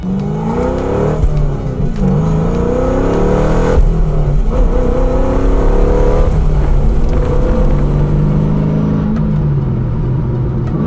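The LS V8 in an RWB Porsche 911 revs hard, its deep rumbling note climbing and falling through repeated throttle blips, loud and close with no talking.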